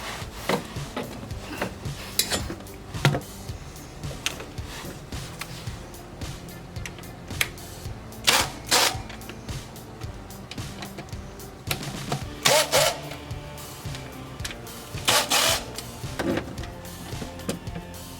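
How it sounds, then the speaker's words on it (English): Bolts are removed from the transmission pan underneath a Maserati Ghibli SQ4, with repeated metallic ratcheting and scraping bursts at irregular intervals, close and fairly clear, with no talking. "what I'm going to do now is I'm going to start removing all those bolts"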